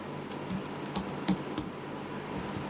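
Keystrokes on a computer keyboard while entering web code, soft scattered taps at an uneven pace over a low steady background hum.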